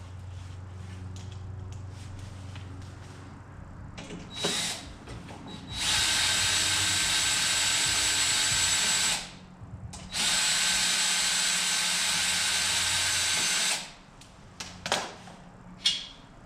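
Power drill or driver whirring in two long sustained runs while a Honda lawn mower's electric starter motor is taken off, with short clicks and mechanical handling noises before and after.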